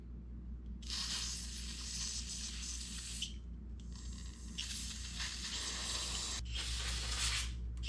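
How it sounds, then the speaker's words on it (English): Aerosol spray hisses in three long bursts close by, aimed into the carburetor of a Husqvarna two-stroke string trimmer, with a steady low hum underneath. "maybe we'll just hold it up and spray in there a little bit."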